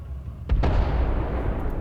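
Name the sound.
explosion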